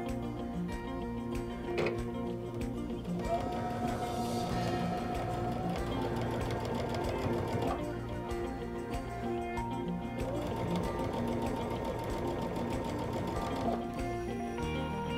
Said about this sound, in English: Probably best to stitch a little slower to make sure that you're staying straight and in that seam as close as you can.